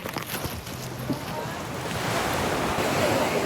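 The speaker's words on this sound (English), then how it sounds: "Quite some waves, shaky boats." Pacific Ocean waves surging around a small launch boat in rough, stormy weather, with a steady roar of surf and wind buffeting the microphone, building louder toward the end.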